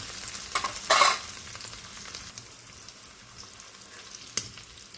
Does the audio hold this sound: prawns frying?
yes